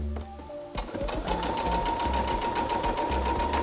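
Sewing machine back stitching a sweatshirt, a few short starts, then a fast, steady mechanical chatter running continuously and close up.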